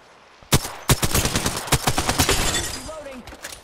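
Rapid video-game gunfire from Apex Legends crackles in sharp bursts, a few loud single shots followed by a fast automatic string, close and punchy.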